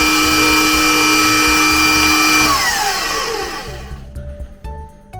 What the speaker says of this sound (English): I like to give my wet ingredients all kind of a mix so they're all incorporated together really,